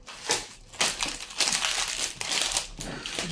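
Crinkling plastic packaging being opened around diamond painting drills shaped like macarons, a close, loud run of crackling and crumpling bursts over about three seconds.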